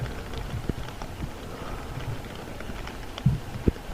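Rain falling in a garden, a soft continuous patter with a few sharper drops and knocks standing out near the end, heard fairly faintly.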